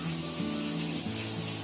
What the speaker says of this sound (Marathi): आता आपलं तेल तापलंय बघा. आता त्याच्यामध्ये पुऱ्या सोडते.